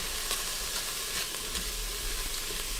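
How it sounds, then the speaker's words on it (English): Onions sauté in an Instant Pot for tomato basil soup, making a dense, even sizzle that fills the moment, close and continuous with no voices. "You can saute these up for a few more minutes if you like."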